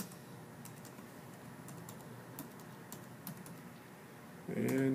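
Fingers tap quietly on a computer keyboard as a message is typed, with irregular light clicks spread across several seconds, followed by a louder sound at the very end.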